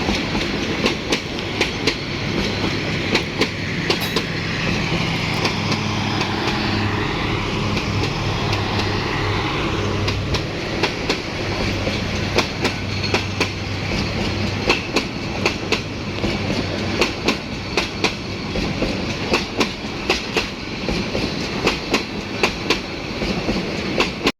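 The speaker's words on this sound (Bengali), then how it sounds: "এই যে দেখুন ট্রেন কত সুন্দরভাবে যাচ্ছে রাতের বেলা" A train rolls past at night near a village, a loud, steady rumble with rapid clickety-clack of wheels over rail joints lasting the whole stretch, with no voices.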